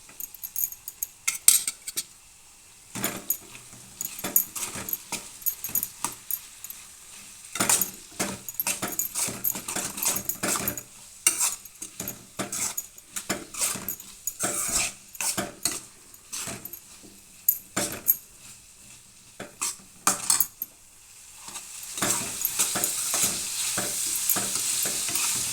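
Ginger-garlic paste stirred into potatoes frying in a pan: a spoon scrapes and clatters against the metal in quick irregular strokes over a constant close sizzle, with a few louder knocks and no talking.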